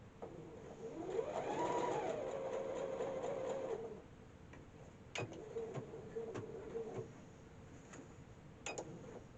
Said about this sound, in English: I've never really used this machine for sewing.